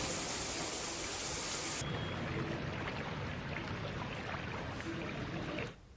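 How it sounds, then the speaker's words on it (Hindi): Torrential rain pours down steadily in Bihar during flooding, a dense loud hiss of water that stays constant, with a possible low thunder rumble beneath and a sudden drop near the end. "मूसलाधार बारिश एक बार फिर से शुरू हो चुकी है"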